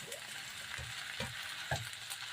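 Egg sautéing in a frying pan, a steady close sizzle with a few scraping stirs of the spatula spread across it.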